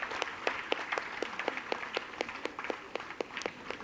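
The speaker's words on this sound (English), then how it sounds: "Request for a big round of applause." Sparse applause at a foundation day celebration at COEP Technological University, honouring a Mechanical Engineering Department staff member: a steady, fairly quiet patter of individual claps, with a few louder hand claps standing out and no one speaking.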